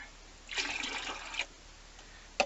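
Purified water is poured into a container for homemade wine, a short splashing gush lasting about a second, then a quieter stretch and a brief second splash, close by and moderately soft.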